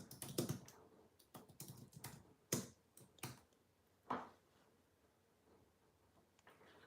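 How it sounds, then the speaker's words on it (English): Someone types on a computer keyboard, rapid clusters of close key clicks followed by a few separate, louder strokes, alone in a quiet room. "let me type really quickly"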